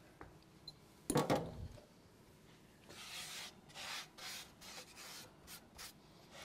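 A hand brushes excess flour off a wooden pastry board. Quiet, close, intermittent rubbing sweeps repeat in short strokes, with one louder scrape early on.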